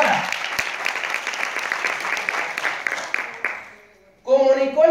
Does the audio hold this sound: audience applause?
yes